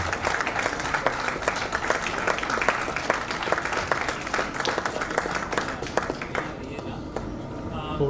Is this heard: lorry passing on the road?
no